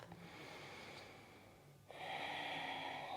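Breathing during a yoga pose, a slow audible exhale softly continuing, then a louder, fuller breath sound from midway to the end, close and without talk.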